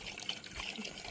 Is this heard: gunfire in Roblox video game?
no